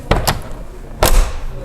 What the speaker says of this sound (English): just listen to the sound of this door